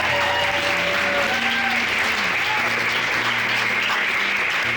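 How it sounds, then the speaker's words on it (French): An audience at a comedy school's graduation show applauds the finishing students, with sustained, even clapping and faint tonal music or whistles drifting underneath. "Oh, on les applaudit!"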